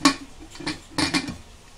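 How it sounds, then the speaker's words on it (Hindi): Pressure cooker lid being set and closed in a home kitchen while cooking goat head and tongue curry, a few sharp metallic clinks and taps close by, with no talk. "लीड बंद कर देती हूँ"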